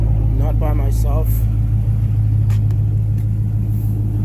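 A 2006 Chrysler 300 SRT8 V8 with a muffler delete idles with a loud, deep rumbling exhaust throughout, while someone speaks briefly over it.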